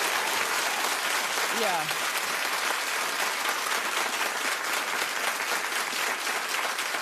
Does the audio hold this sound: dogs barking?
no